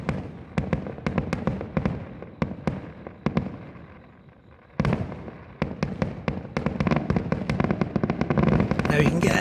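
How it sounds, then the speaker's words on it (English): Large fireworks burst over a city in Japan in rapid, irregular sharp bangs, loud and echoing between buildings and building toward a dense crackling barrage, with people talking underneath. "Now you can get an idea of the size of the fireworks based on the buildings below it"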